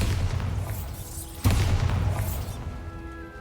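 A Bombarda blasting spell goes off in Hogwarts Legacy: a loud, booming explosion bursts sharply midway and rolls into a long, rumbling decay over continuous game ambience.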